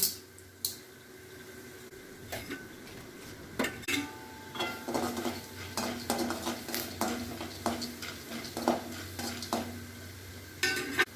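Chana dal roasts in hot oil in a pan with peeled garlic cloves for a tomato chutney. A spoon scrapes and clanks repeatedly against the metal pan over a soft sizzle, in irregular bursts of stirring, close by and without talk.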